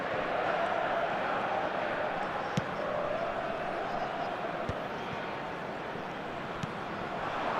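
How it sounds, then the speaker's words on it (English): A football video game crowd gives a sustained, loud roar that holds steady throughout, with a few faint thuds cutting through. "the crowd are reacting to that now"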